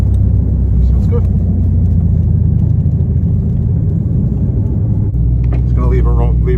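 A built 2020 Ford GT500 engine idles steadily with a deep, constant rumble close by, running throughout without revving, while people talk over it.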